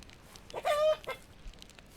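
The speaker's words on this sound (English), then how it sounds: "Oh yeah, there's a chicken." A chicken in the voxel survival game Dead Reach gives a single short, nasal cluck-like call, followed by a brief second squawk, close and fairly clear over a faint background.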